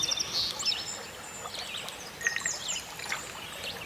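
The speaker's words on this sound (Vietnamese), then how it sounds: "Tiếp theo mình sẽ rót nước vào cho tới khi đầy khay thì thôi." Water trickles steadily into a seedling tray lined with foam sponge for hydroponic sowing, a soft continuous pour with faint bird chirps in the background.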